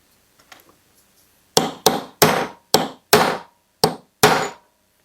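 Seven sharp metal hammer strikes on a gasket hole punch in an uneven rhythm, loud and close, after a few faint taps at the start.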